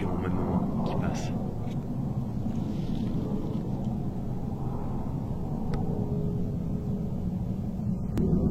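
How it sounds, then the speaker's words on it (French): Airplane passing overhead near Salazac, France, a low, steady, distant rumble mixed with wind noise that persists throughout. "Il fait chier l'avion au même moment qui passe."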